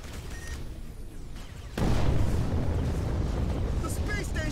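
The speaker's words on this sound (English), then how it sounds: "Explosion imminent." A space station blowing apart in the Between the Stars space game: a sudden loud rumbling blast erupts midway and roars on as a sustained wide roar after a quieter stretch.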